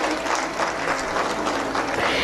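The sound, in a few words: audience applause at a school function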